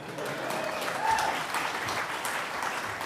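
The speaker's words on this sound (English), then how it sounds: "we can clap for Allie, that's okay" Audience applause for a friend named Allie during a keynote talk: a steady, moderately loud wash of clapping from a crowd that holds evenly for a few seconds.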